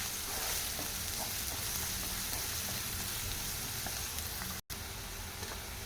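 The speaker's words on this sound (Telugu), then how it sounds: "గోల్డెన్ బ్రౌన్ వచ్చే వరకు ఫ్రై చేసుకుందాం" Onions fry in oil for a Telangana stuffed eggplant curry, giving a steady, dense sizzle throughout with one brief dropout near the end and no voices.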